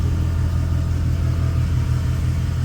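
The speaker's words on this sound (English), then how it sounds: "You can hear my compressor running in the background." An air compressor runs steadily in a workshop during priming work on a 1957 MGA Coupe restoration, a continuous loud low droning hum with no pauses and no speech over it.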